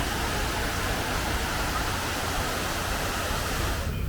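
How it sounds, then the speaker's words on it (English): Water rushes steadily at the 9/11 Memorial, a dense unbroken roar like a waterfall that stays loud and even throughout before easing slightly at the very end. "You can hear like water under here."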